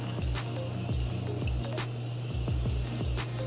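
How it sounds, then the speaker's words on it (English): Several short bursts of Morphe Continuous Setting Mist makeup spray, each a quick hiss, repeated in an uneven rhythm over a low electrical hum. "I am gonna go in with my setting spray, which is the Morphe Continuous Setting Mist"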